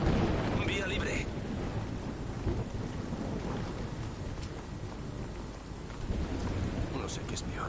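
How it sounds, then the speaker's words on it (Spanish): Heavy rain pours steadily in a Call of Duty Modern Warfare II mission, with deep thunder rumbling throughout, a dense continuous wash of rain on surfaces close by. "Esquivar helicópteros o calarme hasta los huesos con esta lluvia. Prefiero la lluvia."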